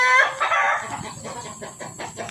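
A chicken sick with coryza clucks and squawks up close while being handled for treatment, a strained cry at first followed by a string of shorter, broken clucks.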